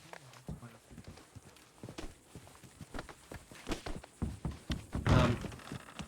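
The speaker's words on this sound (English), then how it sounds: "Come here, horse." Horse hooves clip-clop at an uneven pace in a Western video game, soft thuds and taps building louder toward the end, with a faint voice now and then.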